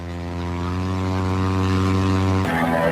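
A motorized hang glider's engine drones loudly and steadily in flight, its buzzing pitch holding level, then shifting abruptly near the end as the throttle changes.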